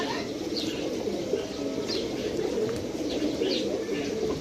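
Pigeons coo in soft, low, repeated murmurs, with a few faint chirps and a voice faintly in the background.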